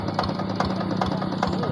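Close, steady idling of a Quick Impala tractor engine, a rhythmic diesel-like chug with evenly spaced knocks riding over a continuous low hum.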